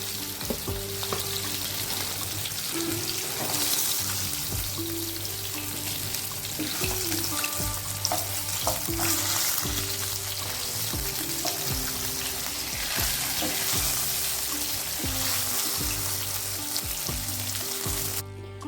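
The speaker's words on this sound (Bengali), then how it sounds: "এই মাছগুলো ভাজা হয়ে গেছে এগুলো উঠিয়ে নেব" Steady, dense sizzling of lote fish (Bombay duck) frying in hot oil, continuous and close, with occasional stirring and utensil clinks over a low background hum.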